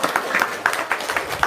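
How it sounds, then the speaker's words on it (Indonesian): Short burst of scattered applause from a small group at an indoor testimonial session, clapping fairly close with uneven rhythm and a faint murmur of voices underneath. "Wow, tepuk tangan dong."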